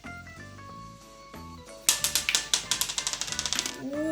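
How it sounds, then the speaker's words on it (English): Dice clatter in a Shark Bite toy fishing game, arriving as a quick burst of sharp, decaying clicks and rattles that thin out over about two seconds after a quieter stretch of tones. "You roll the dice, Phoebe."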